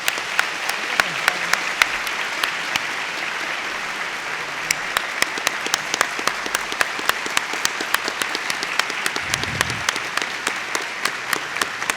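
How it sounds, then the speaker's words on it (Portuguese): Sustained applause from a seated audience at a formal ceremony swearing in public prosecutors in São Paulo, steady dense clapping for the full length with no speech over it. "Uma salva de palmas para todas e todos."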